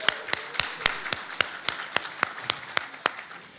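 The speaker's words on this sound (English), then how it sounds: "let's give a round of applause for that" At a chamber of commerce community impact luncheon, a single person claps in a steady even rhythm, about a dozen crisp, close, loud claps with no other voices.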